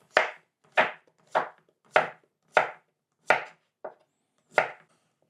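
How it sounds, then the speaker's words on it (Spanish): A knife chops through courgette (zucchini) on a cutting board, eight crisp, evenly spaced strokes about half a second apart, close and clear with no talking. "Lo vamos a cortar al medio y lo vamos a cortar del tamaño de la patata"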